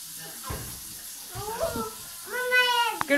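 Tap water runs into a sink during dishwashing at home, a steady hiss that grows louder toward the end, with people talking briefly over it.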